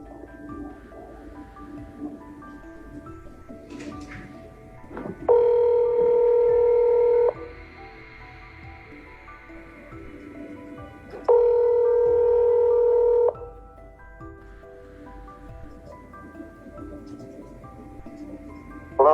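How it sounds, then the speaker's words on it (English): A telephone call being placed: a short burst of dialing tones, then two long, loud electronic ringback tones spaced several seconds apart over a quiet background, with no speech. "So here goes the phone call."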